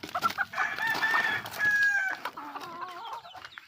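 Chickens kept as backyard poultry squabble nearby with agitated clucks and squawks in a loud burst, quieter cackling, no talk.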